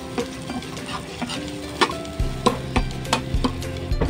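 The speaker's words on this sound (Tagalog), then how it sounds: "At lalagay ko na din po pala yung ating nilagang munggo. Haluin lamang po natin." Boiled mung beans are stirred in a pot, producing rhythmic knocks and scrapes of the spoon over a soft bubbling sizzle, close and clear with no voices.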